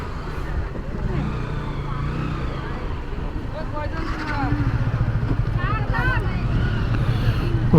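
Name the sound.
boats docking at a river ferry ghat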